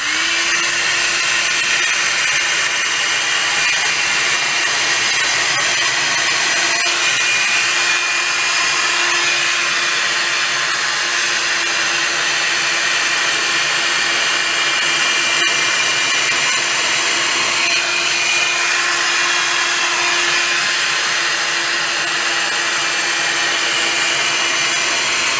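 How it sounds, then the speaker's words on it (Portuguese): A small, fairly weak handheld hair dryer blows steadily on a strand of hair being dried, a constant loud whooshing whine with a faint tonal hum that runs unbroken throughout, with no talking. "E agora a gente vai começar a secar esta mecha. Então, eu vou estar usando meu secadorzinho."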